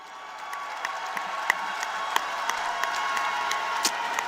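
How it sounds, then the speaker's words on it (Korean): Applause from a political convention crowd for Mayor Park Chan-dae, a dense, even patter of many hands clapping at a distance, steady throughout with a few sharper claps standing out. "응원의 박수를 부탁드립니다"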